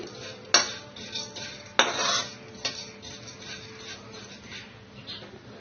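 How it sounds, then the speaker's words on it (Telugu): Cashew pieces roasting in a pan while laddus of dates, sesame and jaggery are made, giving a few sharp metallic clinks and scrapes of a spoon against the pan over a faint steady sizzle, close and moderately loud. "మళ్ళీ ఇదే మూకుట్లో జీడిపప్పు ముక్కలు వేసి వేయించుకుందాం"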